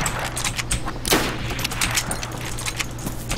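Bursts of video game gunfire crack out during an online shootout, a string of sharp close shots with one louder blast near the middle, over a low steady background hum.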